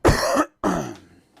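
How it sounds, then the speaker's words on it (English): A person gives two close, harsh coughs, the first a forceful burst and the second trailing off into a throaty rasp, with nothing else heard. "That cough caused itself."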